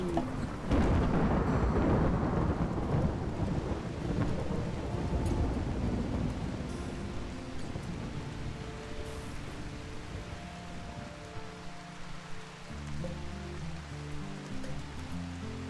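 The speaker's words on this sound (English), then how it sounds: "The falling rain will help in putting it out." Rain and rolling thunder in the colony game RimWorld, a loud broad rumble at first that slowly eases into steady rainfall, with faint game music tones entering near the end.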